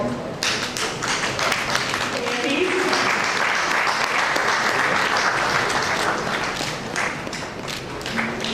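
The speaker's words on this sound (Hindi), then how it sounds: "जोरदार तालियों से अभिनंदन हो जाए" Loud, sustained applause from a large crowd at an award ceremony, dense clapping filling the whole stretch with a brief swell in the middle.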